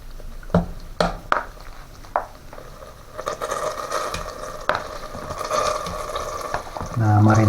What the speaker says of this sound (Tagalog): Painit natin yung oil. Stir fry na natin itong ating beef.